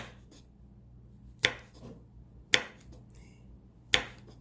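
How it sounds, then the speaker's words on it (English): A knife chops chili pepper into thin slices on a cutting board, three sharp, isolated taps spaced about a second apart, close and distinct against a quiet kitchen. "I'm chopping it really thin."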